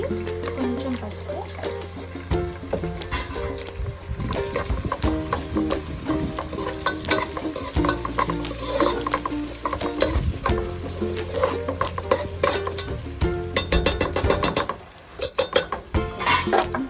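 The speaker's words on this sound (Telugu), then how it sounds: "వేగేలాగా చూసుకోండి" Food fries and sizzles in a pan while gongura mutton is cooked, a steady crackling hiss broken up by frequent scrapes and clinks of stirring.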